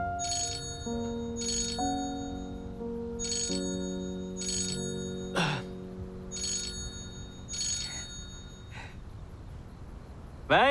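A telephone ringtone plays for an incoming call, a repeating melodic electronic tune in regular bursts with brief pauses, clear and fairly close, ending in a short click as the call is answered.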